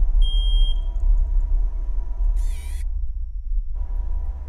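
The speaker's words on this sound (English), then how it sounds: "Or is that an alarm?" In a horror video game, a smoke alarm lets out a single shrill warbling chirp that lasts a fraction of a second. Around it there is a steady low droning hum.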